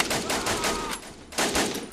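Sustained automatic gunfire in the video game Iron Europe, dense loud bursts rattling continuously with a brief lull before resuming.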